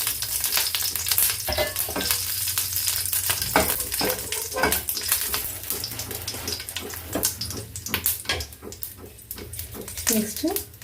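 Two dried red chillies fry in a couple of spoons of hot oil in a pan on the stove, with a steady sizzle broken by clinks and scrapes of stirring while a voice talks over it.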